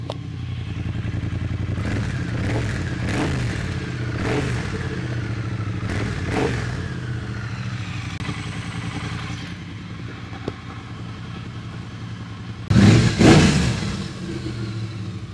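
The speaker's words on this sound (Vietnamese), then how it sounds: "mình là nổ máy các anh nghe ha" A 2022 Triumph Speed Twin 900 motorcycle with its parallel-twin engine runs close by at a steady idle, with a few short blips of the throttle and one louder rev near the end.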